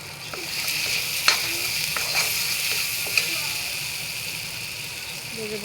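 Cumin seeds sizzling in hot oil while being stirred, a steady frying hiss with scattered sharp clicks of the spoon against the pan, heard close up with a voice briefly in the background.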